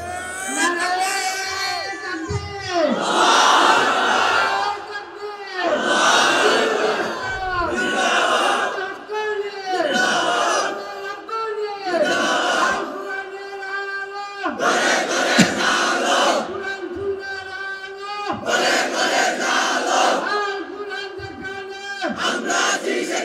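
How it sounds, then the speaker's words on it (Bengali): A large crowd at an outdoor Islamic waz gathering shouts takbir and slogans in loud unison, with repeated surging chants and brief pauses between bursts, sustained throughout. "তোমরাই স্লোগান দাও, তোমরাই তাকবীর বলো"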